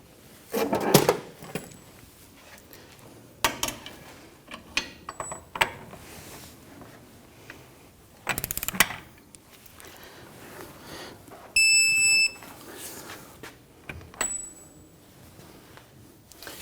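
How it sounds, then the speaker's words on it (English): A castle nut on the front CV axle of a 2011-2015 Kia Sorento is tightened with a ratchet. Scattered mechanical clicks and clunky metal knocks come in bursts between quiet stretches, with a brief bright metallic ring near the end. "we need to continue to tighten this nut until the next window of the castle nut lines up with the hole in the axle"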